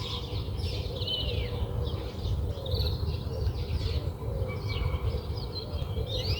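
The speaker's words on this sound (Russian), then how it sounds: "Здесь очень много красивых птиц" Several birds chirp and trill over a steady buzzing insect drone and low rumble outdoors at an abandoned Sikh temple near the India–Pakistan border, with no one speaking.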